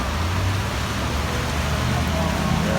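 Heavy rain pouring down in Salmiya, Kuwait, a dense continuous hiss of drops hitting surfaces, loud and steady throughout with a low rumble beneath.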